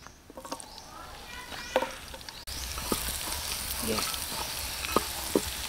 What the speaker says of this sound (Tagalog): Magigisa lang tayo ng ating mga ingredients.